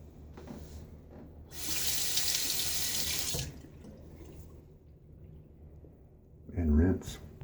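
Tap water runs into a sink while the face is rinsed after a shave, a steady hiss lasting about two seconds near the start, with a brief splash near the end and quiet handling between.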